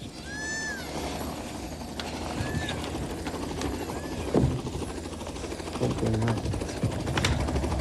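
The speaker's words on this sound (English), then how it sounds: "Back to the helicopter" A helicopter drones steadily in the background throughout, with a few faint squeaks and rattles over it, and no voices.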